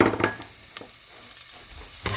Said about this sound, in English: See that sizzling away nicely.